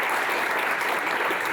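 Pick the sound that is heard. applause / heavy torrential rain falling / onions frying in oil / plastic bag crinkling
applause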